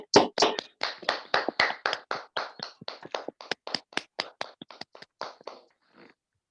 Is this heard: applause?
yes